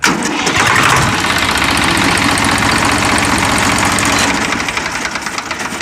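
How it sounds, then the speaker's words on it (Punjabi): A tractor engine cranks and catches, then settles into a loud, steady idle with a rapid low knocking throb that runs without a break, easing slightly near the end. "ਟਰੈਕਟਰ ਤੁਹਾਨੂੰ ਪਹਿਲਾਂ ਸਟਾਰਟ ਕਰਕੇ ਵਿਖਾਉਣੇ"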